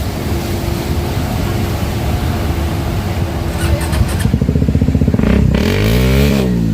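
Motorcycles push through shallow floodwater on a street in front of Manila City Hall after heavy rain. Engines run loudly and continuously with clatter and splashing, and a close bike revs harder toward the end.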